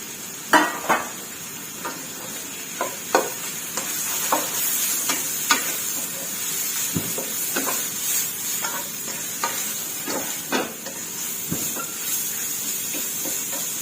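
Two kinds of mushrooms sizzle and hiss as they are stir-fried in a hot pan, with a steady bed of frying noise broken by repeated scraping and clinking strokes of a utensil against the metal.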